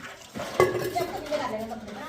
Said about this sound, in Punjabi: ਭਾਂਡੇ ਧਵਾ ਰਿਹਾ ਇੱਕ ਦਾ ਮੁੰਡਾ ਤੇਰੇ ਨਾਲ